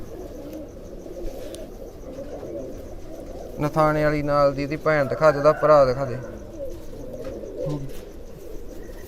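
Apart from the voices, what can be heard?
racing pigeons cooing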